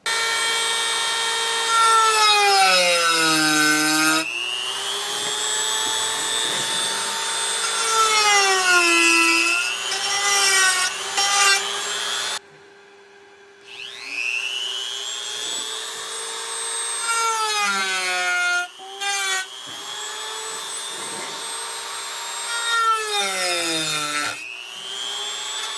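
A power drill bores holes into wood for a bottle craft project in long whining bursts, the motor pitch rising and falling, with brief pauses between holes; loud and close.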